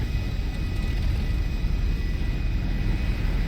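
A Dash 8 turboprop airliner in the game GTA Five M, its engines giving a loud, steady, close droning rumble with no break throughout.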